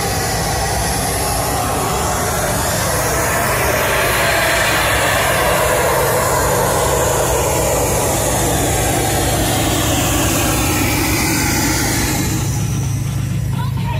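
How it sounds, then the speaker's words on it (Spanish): A car audio system at a competition judging tent blasts pink noise, a loud, steady, full-range hiss that continues unbroken, with faint outdoor event background. "Ahorita tienen un vehículo ahí con ruido rosa"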